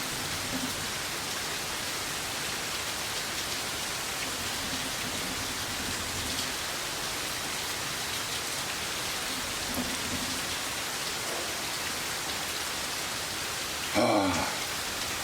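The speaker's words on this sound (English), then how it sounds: "that rain is really coming down out there" Heavy rain falls outside as a continuous, even wash of noise throughout, with a brief louder burst near the end and no voices.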